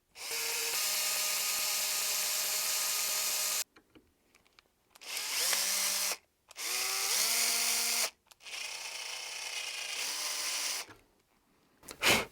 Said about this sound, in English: And now I'm just going to try a left-handed drill bit here.